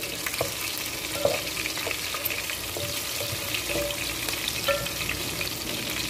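Cumin seeds and green chilies frying in hot oil for aloo katlian, a constant sizzle with intermittent crackles and light clinks of a spoon against the pan, no one speaking.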